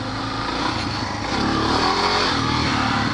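A motorcycle engine revs hard and close during a wheelie, a loud, continuous roar that swells slightly as the throttle opens, with no talking.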